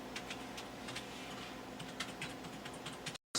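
Quiet typing on a computer keyboard, a steady run of light key clicks with a few louder taps, close by, with no talk.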